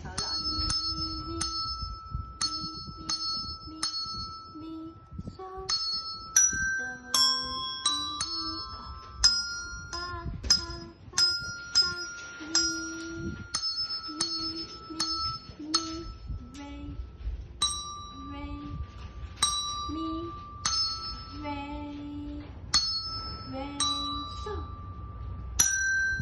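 Jingle Bells is played on a bell-like instrument at a Christmas show, with bright struck notes picking out the melody in a steady rhythm, close and clear over a faint low room hum.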